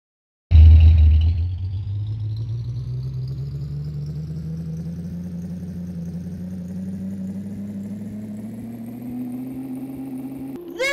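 Big rig truck engine in the Big Rigs video game, driving through mountains: a loud, steady drone that starts abruptly and climbs slowly and continuously in pitch for about ten seconds, heard alone.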